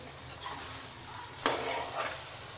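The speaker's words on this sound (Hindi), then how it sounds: "ये 4-5 मिनट हो गए हमें इसे फ्राई करते हुए मीडियम आंच पे" Soft, steady sizzling of meat (chicken) frying in a pan over medium heat, with a faint scrape of stirring and a sharp clink partway through.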